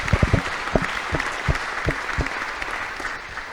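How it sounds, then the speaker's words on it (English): Academic lecture audience applauding the panelists, close, distinct individual claps standing out at first over a broad crowd clapping that gradually thins and softens. "let's give a round of applause to our panelists"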